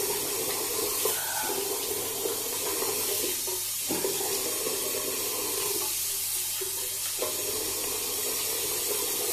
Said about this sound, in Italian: Ghiacciata, quella che scende dal lavandino.